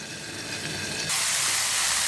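Beans boil and steam in a pot, a steady broadband hiss that grows abruptly louder and brighter about halfway through and stays constant to the end, with no voices.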